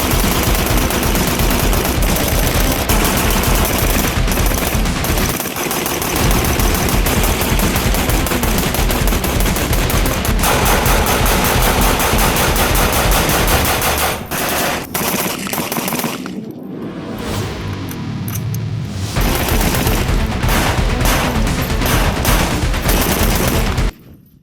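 Sustained rapid gunfire from a PSA Super SASS rifle, loud and close, with dense strings of shots running nearly continuously, a brief lull midway, then more firing before it cuts off.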